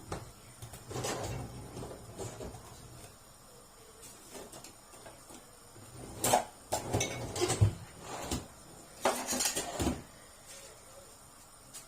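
A metal whisk clatters intermittently in a pot of rice pudding sweetened with sugar, vanilla and banana flavouring. The bursts of clinking and scraping are fairly faint, with quiet kitchen handling noises in between.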